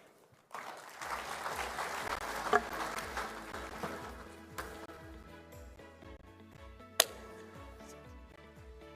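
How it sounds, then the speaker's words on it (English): A conference audience at a devolution event applauds, a moderate bed of many hands clapping that starts suddenly and slowly thins out, with buzzing hum and a few sharp knocks in the hall. "Another round of applause for Minority Leader, Senator Madzayo."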